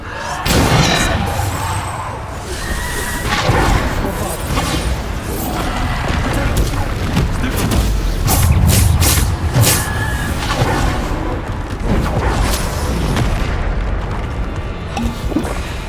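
Descendo spells slam down in the Hogwarts Legacy video game, heavy booming impacts and crashing thuds hitting repeatedly through a dense, loud battle mix with no pause across the whole stretch.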